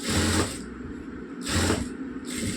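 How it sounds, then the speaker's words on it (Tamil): A sewing machine stitching the neck of a blouse whirs in short, quiet bursts, three rhythmic runs of mechanical chatter close by with no talking. "கொண்டுட்டு தைச்சிட்டுருக்குறேன் பாருங்கள்"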